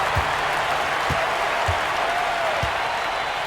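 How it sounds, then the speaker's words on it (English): A crowd cheers and applauds in an NBA 2K24 basketball game after a dunk. A steady wash of cheering and clapping runs throughout, with a few dull thumps like a bouncing ball under it. "he's hearing it from the crowd"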